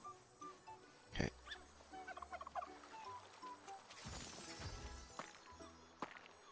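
Chicken in the Luma Island video game clucking and gobbling in short uneven bursts, moderately quiet over game music and effects, with a couple of louder thumps.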